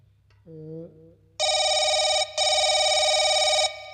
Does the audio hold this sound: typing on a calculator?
no